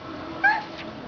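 A young child imitates a cat with one short, high meow, brief and fairly close against quiet room background.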